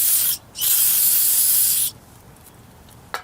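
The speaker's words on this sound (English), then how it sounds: "right now I'm gonna throw a little bit of a brake cleaner" Brake cleaner sprayed from an aerosol can onto Honda CR-V front brake caliper bolts, two loud close hissing bursts, a short one then a longer one, followed by quiet with a faint click.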